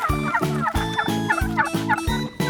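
Turkeys gobble on a turkey farm in a fast burst of repeated throaty, warbling calls, close and loud, several overlapping bursts one after another with no talk.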